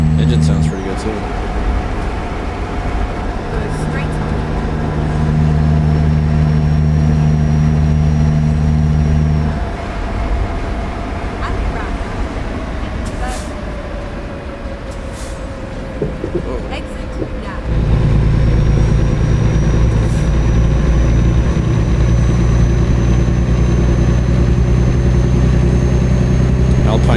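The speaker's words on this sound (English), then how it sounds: "Engine sounds pretty good too." Truck engine in American Truck Simulator, a steady loud mid-pitched drone with changes in engine note and a brief drop in load, running continuously under occasional talk.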